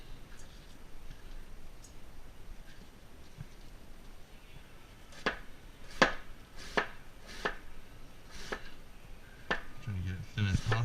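A knife slices cabbage thin for pineapple coleslaw on a cutting board, a run of sharp, separate chops at an uneven pace, close and clear over low background noise, with a brief clatter near the end.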